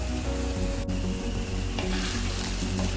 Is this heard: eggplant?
yes